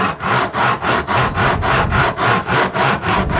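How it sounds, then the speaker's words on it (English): Cork roadbed on an N scale model railway layout is filed down in about a dozen quick, even back-and-forth rasping strokes, loud and close, with no speech. "So we're just filing that down, grading it down, and then that'll take care of that."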